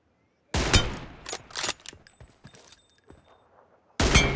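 Headshot gunfire effects in the mobile game BGMI: a sharp burst of shots, then scattered quieter reports and clicks fading out, and another loud burst at the end, with no talking.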